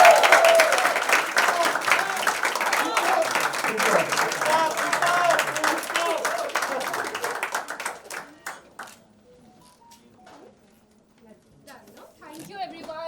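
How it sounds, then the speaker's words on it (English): An audience at a college festival event claps loudly and densely for several seconds, then the applause thins out into scattered claps and near silence before faint sounds return. "Please clap for yourself."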